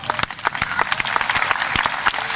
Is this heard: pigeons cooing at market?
no